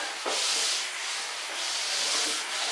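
A steam mop glides over a hard floor, giving a steady close hiss and rubbing swish that swells and eases with each push and pull, with no talk.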